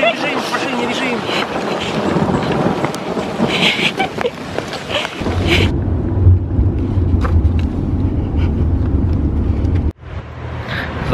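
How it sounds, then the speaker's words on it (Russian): Heavy rain pours in a dense, continuous roar during a thunderstorm. The sound turns muffled and deeper partway through, as if heard from inside a car, and people talk over it. "было солнце, ничего не предвещало такой грозы"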